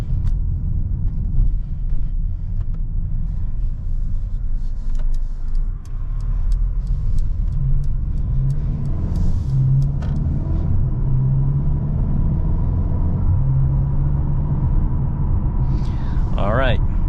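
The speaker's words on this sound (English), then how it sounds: "driving this 2023 GLA AMG 35" A 2023 Mercedes GLA 35 AMG driving, a steady low cabin rumble of engine and road noise with a slight rise in engine note midway, heard under someone talking throughout.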